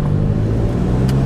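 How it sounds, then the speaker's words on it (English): A VW MK7 GTI with upgraded brakes pulls away, its engine giving a loud, steady low rumble heard from inside the car, with no talking. "We're gonna go out for a quick drive and do some quick stops."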